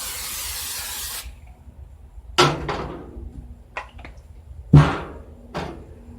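A short hiss of cooking spray over cornbread batter runs for about a second, followed by a few sharp knocks and clatters, close and fairly loud.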